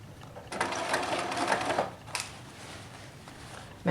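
A sewing machine stitching a set-in sleeve seam, a close, steady mechanical whirr for about a second and a half, then a brief second burst after a pause.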